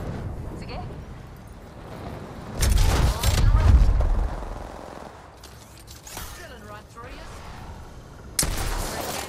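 Bursts of Apex Legends gunfire and booming blasts erupt in clusters over a steady background, with a voice talking now and then.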